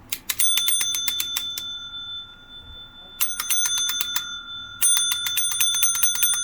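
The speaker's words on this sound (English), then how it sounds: "that's a Bally match unit, or 0 to 9 unit, as we often do call them, with a bell clapper, and I guess if we hit it hard enough" The bell clapper on a Bally pinball match unit, also called a 0 to 9 unit, rings in three bursts of rapid, bright metallic strikes, close and loud, with brief pauses between them.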